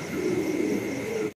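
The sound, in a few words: cooing of a pair of Modena pigeons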